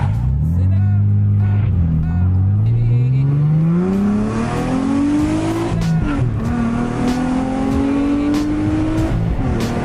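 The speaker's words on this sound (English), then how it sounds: "We're gonna listen to it with the silencer on" A Nissan G35's engine revs up through the gears, its deep exhaust note with silencer on rising and dropping with each shift, loud and close from inside the car, with occasional speech.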